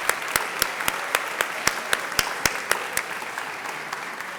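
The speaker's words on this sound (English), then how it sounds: "please go ahead and give them a heartfelt round of applause as well" Dinner guests at an annual awards dinner break into a steady round of applause, sharp claps rising then gradually thinning out, with no talking over it.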